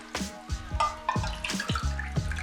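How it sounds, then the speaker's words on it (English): Water from a cup swished and poured inside a tomato sauce can to rinse out the leftovers, a series of close, quick splashing and sloshing bursts with metallic clinks. "with my cup of water I'm going to rinse out what's left in my tomato sauce can"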